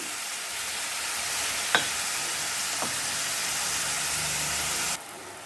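Mutton chops fry uncovered in a pan with a constant, even sizzle and hiss, broken by a couple of brief clinks of utensils, close and steady until it drops away at the end, with no talk.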